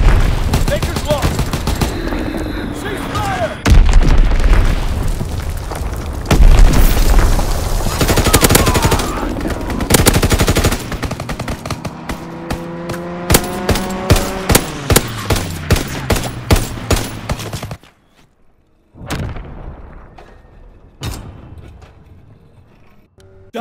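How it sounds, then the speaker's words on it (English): Azon bomb explosion and gunfire in the World War II shooter Call of Duty WW2, loud booming blasts and dense rapid shots, followed by rhythmic bursts of fire that thin out toward scattered final cracks. "Enemy bomb incoming. Get to cover. Dropping Azon bomb."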